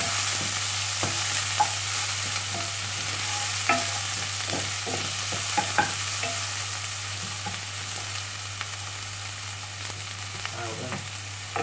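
Vegetables for a vegan Moroccan-style tagine fry in a pan with a constant close sizzle, broken by scattered clicks and light stirring taps over about twelve seconds, no voices.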